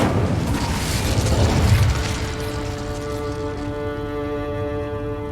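A fiery Incendio spell from Hogwarts Legacy bursts with a loud whooshing roar that swells for about two seconds, then fades into a steady tonal hum.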